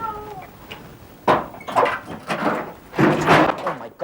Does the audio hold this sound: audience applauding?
no